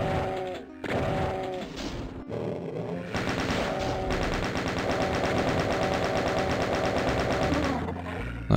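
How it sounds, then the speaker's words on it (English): Chain gun in The Ultimate Doom rattling off rapid, continuous bursts of loud shots for most of the span, with brief pauses and a few short tonal game effects mixed in. "Let's chain gun them."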